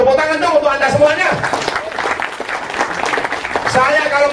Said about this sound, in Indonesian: Tepuk tangan dong untuk Anda semuanya.